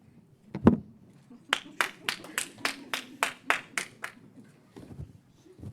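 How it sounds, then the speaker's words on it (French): A Euronext bell ceremony marking Lhyfe's IPO, with a run of about ten sharp, evenly spaced hand claps in a steady rhythm, fairly close and moderately loud, then fading out. "j'aimerais que vous me laissiez tout seul applaudir l'équipe"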